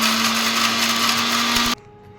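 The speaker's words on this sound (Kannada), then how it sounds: "ಇವಾಗ ಹಸಿಮೆಣಸಿನ್ಕಾಯಿ ಹಾಕ್ಕೊಂಡಿದ್ದೀನಿ, ಅದು ರುಬ್ಕೊಳ್ಳೋಣ" A mixer grinder whirs loudly and steadily while grinding green chillies, then cuts off abruptly near the end, leaving a faint hum.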